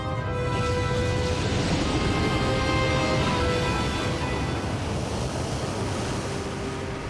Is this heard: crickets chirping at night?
no